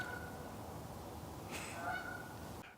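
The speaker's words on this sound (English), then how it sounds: "Geese." A few geese honk at a distance outdoors in the morning, brief calls rising over steady background noise with no talking.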